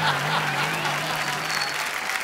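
An audience claps throughout, a dense, even wash of applause at a comedy show taping that stays loud and steady for a couple of seconds with no one speaking.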